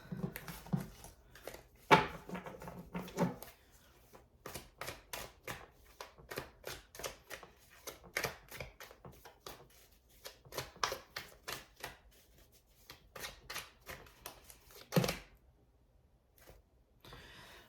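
Tarot cards are shuffled by hand in quick bursts of crisp riffling and slapping, with pauses between rounds and a few louder thumps as the deck is squared, all close and without speech.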